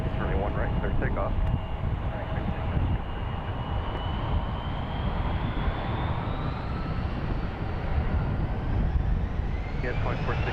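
Jet airliner taking off from a runway at San Francisco International Airport, a loud, steady broadband engine roar with a slowly rising whine that holds for the whole stretch, with air traffic control radio voices faintly under it.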